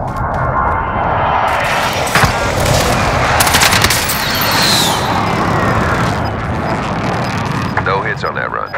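Explosive video-game air strike called in against gas-marked targets, sustained dense booming and rolling gunfire-like bursts across the whole stretch, loud and continuous, with radio-style voices talking over it.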